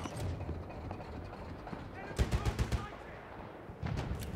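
Gunfire in the Battlefield 1 video game, a quick run of four or five loud shots in the middle with a busy battle din and speech around it.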